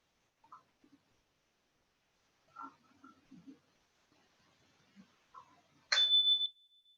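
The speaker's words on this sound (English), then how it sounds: "I'm going to sound the chime" A meditation chime is struck once to close the session, a sudden bright ring that lingers briefly as a pure sustained tone after a few quiet scattered sounds.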